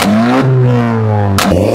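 A 2020 Honda Civic 1.5 turbo with a Stage 2 tune revs loud and close, its engine note climbing, dipping slightly, then rising again in a strong, steady drone.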